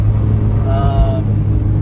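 Honda Civic with a swapped K24 TSX engine, fitted with cold air intake, headers, 3-inch exhaust piping and a stock Si muffler, idling in a steady low rumble with a brief rise in pitch.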